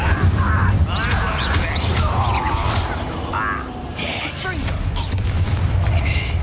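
Spell effects from the Hogwarts Legacy video game, including the Incendio fire spell, sound as loud, continuous booming blasts and crashing impacts over a steady low rumble, with several sharp bursts across the clip.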